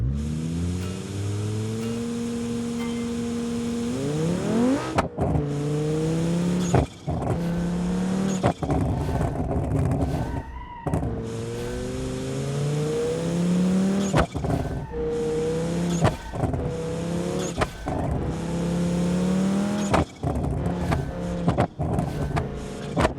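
An ETK car in BeamNG.drive runs an autocross course, its engine revving steadily and shifting through gears, with brief breaks and occasional tire squeal, loud and close throughout.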